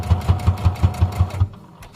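A sewing machine stitches blue fabric onto a dress in a steady run of about eight quick, loud mechanical thumps close by, then stops abruptly.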